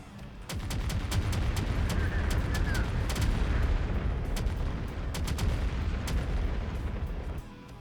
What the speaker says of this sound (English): They're just gonna keep firing at it.